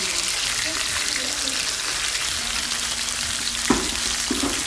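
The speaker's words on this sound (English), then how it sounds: "make sure that this salmon gets a good sear" Salmon searing in a hot pan gives a loud, steady, close hiss of sizzling fat, broken by a couple of soft knocks from the pan near the end.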